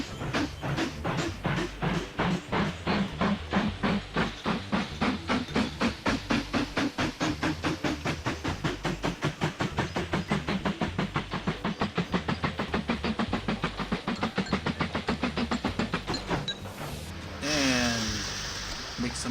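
A train runs along its line in the Mashinky railway-building game, giving a steady, even chuffing beat for most of the stretch before easing off into a softer hiss near the end.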